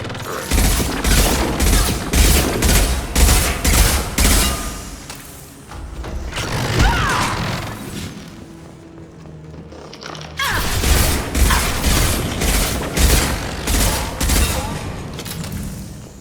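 Defensive turret gunfire in Mass Effect 2, loud rapid repeated bursts of automatic shots with mechanical clatter, pausing briefly in the middle before resuming at full intensity.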